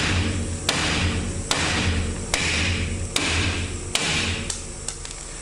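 Repeated hammer strikes knocking out a wheel stud during a 12mm stud upgrade on a Wildcat: about seven sharp metallic whacks spaced roughly a second apart, close and loud over steady background noise.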